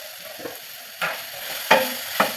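A ground chutney of ridge gourd peel sautés in a pan, with three or four short scraping stirs over a soft, steady sizzle.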